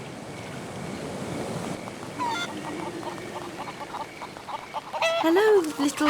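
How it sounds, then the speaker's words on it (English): Chickens in the video game Haunted give short clucks and squawks, mostly bunched near the end, over a steady wash of ambient game noise. "Hello, little chickens."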